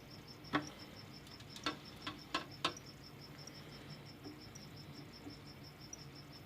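Feeder crickets chirp inside a tarantula enclosure, a faint continuous high trill with a few sharp clicks and taps from handling early on, no voices.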